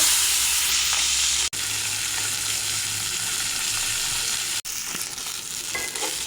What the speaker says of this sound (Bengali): এখন মাছে হলুদ লবণ মাখিয়ে ভেজে নেব। সরষে তেল দিয়ে দেব।